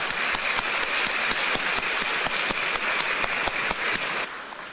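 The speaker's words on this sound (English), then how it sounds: "Let's give him a round of applause." A chamber of commerce audience in Taipei breaks into loud, sustained applause, a dense wash of clapping held steady for several seconds before easing off.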